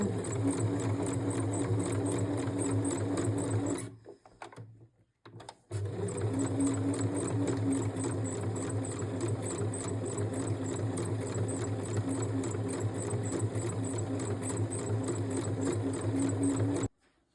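An electric sewing machine stitches a seam close to the edge of fabric, with a steady motor hum and rapid needle chatter. It stops briefly near the start, then resumes and runs evenly to the end, with no talking.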